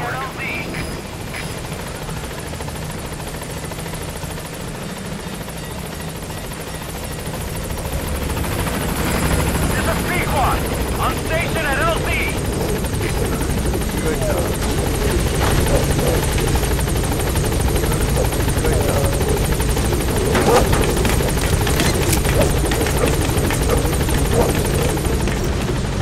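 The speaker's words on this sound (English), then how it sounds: "In the meantime, get on the chopper." A helicopter in the video game Metal Gear Solid V drones continuously, its rotor and engine noise swelling louder partway through and holding steady, with voices speaking over it.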